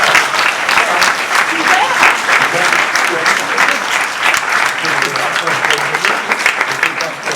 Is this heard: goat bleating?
no